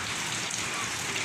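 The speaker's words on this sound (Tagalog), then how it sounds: "Malakas na naman na yung ulan" Heavy rain falling during a flood in Santolan, Pasig City, a dense steady hiss of downpour that stays even throughout.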